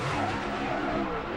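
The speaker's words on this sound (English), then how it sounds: "the car just broke loose with him and just came around" A race car breaks loose coming off turn 2 and spins around, tires skidding and squealing in a continuous loud, harsh roar mixed with engine noise.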